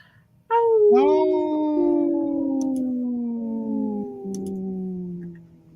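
Wolves howl in long, sliding, overlapping calls that rise sharply and then slowly fall, loud and clear against a quiet background for several seconds.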